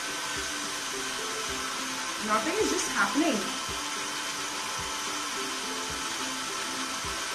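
A hair dryer blows steadily close to hair being curled around a round bottle, a constant airy roar throughout while someone talks briefly over it.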